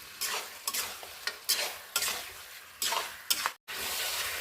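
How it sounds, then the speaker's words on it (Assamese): Steady sizzling of chicken frying in a pan, with repeated scraping and stirring strokes, close up and without talk. "মই আকৌ 5 মিনিটমানৰ কাৰণে এনেকৈ ভাজি থাকিম।"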